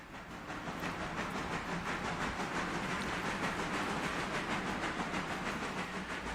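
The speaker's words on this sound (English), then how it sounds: "So that should just chuff on its merry way out to Connolly now and stop when it gets to the dead end." Steam locomotive in the Railroader video game rolling along the track with a steady rhythmic chuff and clatter, continuous and fairly faint, no voices.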